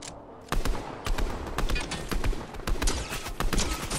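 Rapid bursts of gunfire in a Fortnite Zero Build squads match, fired at a rock where opponents hide, starting after a brief quiet moment and continuing in loud, uneven volleys of sharp cracks close by.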